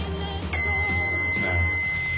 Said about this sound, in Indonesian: Kalau kita hidupkan langsung ke kontak, maka dia tidak bisa hidup dan alarm bunyi seperti ini.